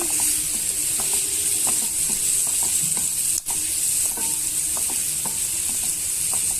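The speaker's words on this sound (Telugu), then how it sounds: "బ్రౌన్ కలర్ వచ్చేంత వరకు వేయించుకోండి ఉల్లిపాయ ముక్కలు పచ్చిమిరపకాయ ముక్కలు బాగా వేగిపోయాయండి" Onion and green chilli pieces frying with turmeric in a pan, a steady hissing sizzle with repeated light scraping clicks of stirring, close and even throughout with no voices.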